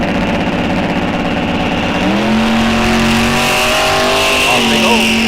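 Drag race cars, one a Shelby Mustang, launch side by side off the starting line at a raceway, engines roaring loud and steady with a sharp pitch shift as they pull away, under a track announcer's voice.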